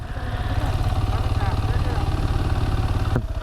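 A motorcycle engine runs steadily at close range, a low pulsing drone that holds throughout and cuts briefly near the end, with people talking over it.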